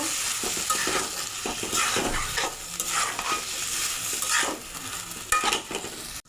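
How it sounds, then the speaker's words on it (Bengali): Chicken pieces stirred into cooked spice paste in a pan for a chicken curry, a steady sizzle with repeated scraping strokes of a spoon against the pan, close and continuous. "এবার মাংস দিয়ে দেব। এবার মিশিয়ে নেব।"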